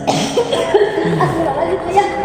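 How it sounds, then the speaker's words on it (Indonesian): Painful-sounding coughing from a person, a few harsh bursts close to the microphone with a voice or two murmuring around it. "Aduh, batuknya kok sampai kayak gini"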